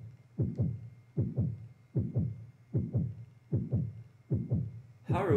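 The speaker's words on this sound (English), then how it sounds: "Like the heartbeat, this heartbeat thing that you're feeling, the controller doesn't stop vibrating throughout the entire game" Deep double-thump heartbeat from the horror video game Yomawari: Midnight Shadows beats six times in a slow, even rhythm, loud and alone, before a voice cuts in at the end.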